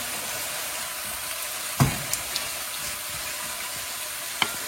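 Potato slices frying in a pan for a Spanish tortilla give off a dense, even sizzle close up, broken by one knock of a utensil against the pan and a few small clicks.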